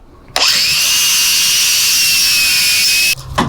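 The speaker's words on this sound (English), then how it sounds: "you need somewhere to grind stuff, you just use the RC chassis" An angle grinder grinds steel on a steel 1/10 scale RC crawler chassis, a loud, steady high-pitched whine that runs for about three seconds, then cuts off abruptly and is followed by quiet room noise.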